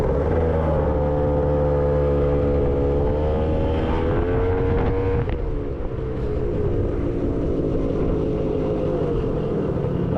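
Gilera Runner 180cc scooter fitted with a Malossi exhaust and 28mm carburetor, riding with a loud, steady engine drone that rises in pitch around the middle and then settles, close and continuous with no talk.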